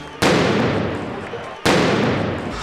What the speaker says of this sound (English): The cannon goes off.